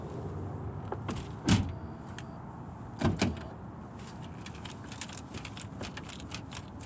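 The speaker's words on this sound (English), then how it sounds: "Broken glass inside the door, still rattling around." Broken window glass rattles and clinks inside a BMW car door, heard as a couple of sharp jolts followed by scattered faint tinkling, close and without talk.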